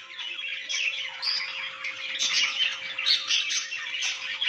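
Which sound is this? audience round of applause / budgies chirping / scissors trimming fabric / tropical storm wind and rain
budgies chirping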